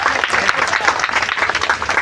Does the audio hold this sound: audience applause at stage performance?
yes